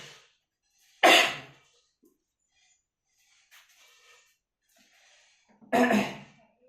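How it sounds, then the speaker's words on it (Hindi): Two isolated coughs, several seconds apart, close to the mic, with faint breathing and quiet rustling between them. "बार बार खांसी आ रहा है।"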